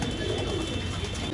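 A pigeon kept by a Jamshedpur fancier gives a short, soft low coo, faint and close, lasting about a second.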